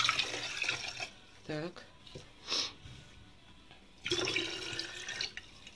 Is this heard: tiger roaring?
no